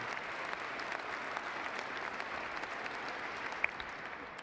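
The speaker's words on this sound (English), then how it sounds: "We're clapping." A crowd claps at an Inauguration Day event in Washington, DC: sustained, fairly faint applause that holds steady throughout, with a few sharper individual claps standing out.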